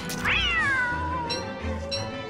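A cat meowing in the video game Don't Starve: one drawn-out, falling meow, close and clear, over quiet game ambience.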